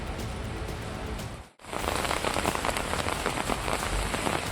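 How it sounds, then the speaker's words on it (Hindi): Heavy, hours-long rain pours down in Doda, Jammu and Kashmir, a dense steady roar that cuts out briefly, then returns louder and continues without talk. "डोडा में कई घंटे तक हुई जबरदस्त बारिश से नदी नाले उफान पर हैं।"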